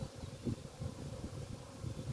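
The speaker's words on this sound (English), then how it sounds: "those bees seem a lot less aggressive" Honey bees buzz around freshly set-up apiary hives, a steady low insect drone with soft swells close by, no talking.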